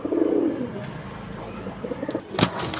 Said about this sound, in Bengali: এনে এক পেয়ার আর্মি কবুতর আর এক পেয়ার জিরা গলা কবুতর